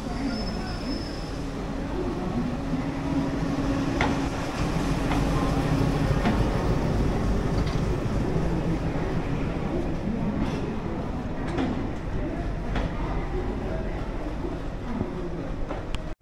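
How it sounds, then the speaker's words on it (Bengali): An express train pulls into a station platform, rumbling steadily nearby with a low rolling drone and faint clattering, loud and continuous throughout, with some background voices mixed in. "এই মুহূর্তে 8 নম্বর প্ল্যাটফর্মে আমাদের ট্রেন ঢুকছে, তোমাদেরকে দেখাই"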